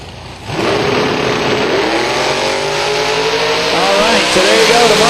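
A Mustang and a Camaro launch in a drag race at Silver Dollar Raceway: a sudden loud engine roar bursts in and holds, with revs climbing and shifting close by, and an announcer's voice runs beneath it.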